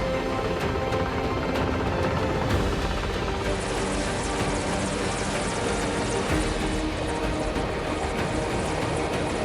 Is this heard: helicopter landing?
yes